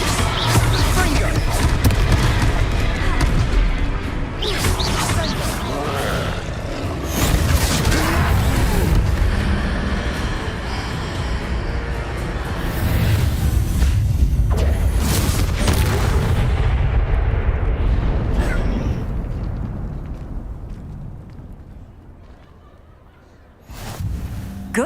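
Confringo blasting spells exploding during combat with trolls in Hogwarts Legacy: repeated booming blasts over a dense, continuous battle din, with voices shouting spell names throughout.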